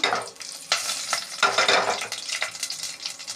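Whole spices such as cinnamon, cardamom, cloves and bay leaf, with green chillies, sizzling in oil and ghee in a pan, a close crackling fry with repeated stirring scrapes.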